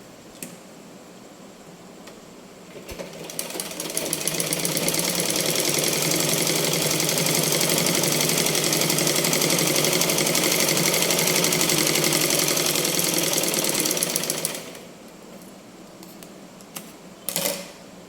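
A sewing machine stitches blouse fabric in one long, steady run of rapid mechanical whirring lasting about ten seconds, close and loud, with light handling clicks before and after.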